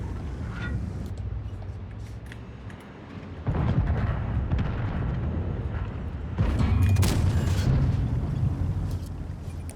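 Tank cannon fire in World of Tanks, deep booming shots landing every few seconds over a steady engine rumble, the last blast louder and closer than the rest.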